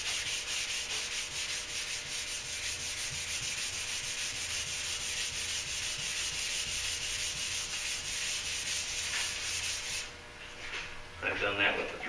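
Hand wet sanding of second-coat primer on a car door gives a steady, continuous gritty rasping scrub, close and even, easing off near the end with a few brief knocks.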